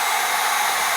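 An 1800-watt hair dryer runs off a Bluetti AC70 power station's 1000-watt inverter, giving a loud, steady, unbroken airy whoosh throughout.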